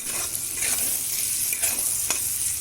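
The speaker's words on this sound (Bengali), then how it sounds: "দিয়ে কিছুক্ষণ নাড়তে হবে।" A spatula stirs onion, capsicum and tomato in a hot frying pan, giving a steady sizzle broken by several scraping strokes, close up and with no voices.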